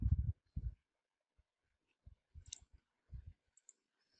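Computer mouse clicks in a quiet room: a few soft, separate clicks and short click clusters at uneven intervals, with no talking.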